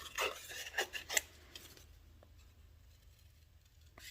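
Scissors snipping paper pieces while fussy cutting, several quick crisp cuts close up in the first second, then near silence with a couple of faint ticks.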